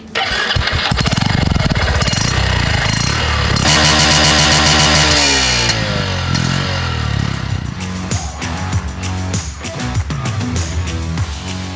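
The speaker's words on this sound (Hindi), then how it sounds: "एक बार आपको इस बाइक का एग्जॉस्ट साउंड सुना देता हूं।" A Honda Shine 100 motorcycle engine cranks and fires up, then settles into a loud, throbbing exhaust idle with revs rising and falling, close by.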